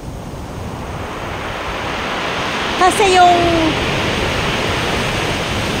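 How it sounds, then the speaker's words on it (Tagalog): Waves wash over a pebble beach in a steady broad roar with a faint surge, and a person speaks briefly partway through. "See? The sound of the waves is different."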